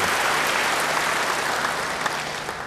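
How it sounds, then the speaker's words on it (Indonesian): A church congregation claps in applause during a sermon, producing a dense, steady wash of many hands with no speech. "Yang percaya beri tepuk tangan yang baik bagi dia."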